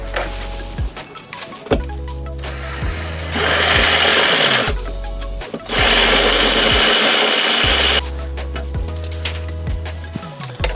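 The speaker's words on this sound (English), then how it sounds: "now I'm going to take the spot weld drill bit" A spot weld drill bit bores out spot welds on a Toyota GT86 during a Grannas T56 kit install. The drill whines in two sustained bursts between short stops, close and loud, with no talking.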